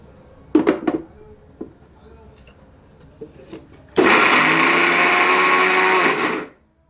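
A mixer grinder grinds roasted coconut for dry-fruit laddoos: a few light clatters and knocks come first, then a loud, steady whirring roar runs for about two and a half seconds before cutting off abruptly.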